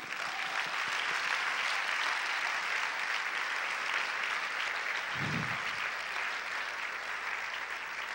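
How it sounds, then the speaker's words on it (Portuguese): A church congregation applauding during a Sunday-night family worship service; broad, even clapping fills the whole stretch at a moderate distance, steady and sustained, with a brief low thump midway. "Então aplauda ao Senhor por isso."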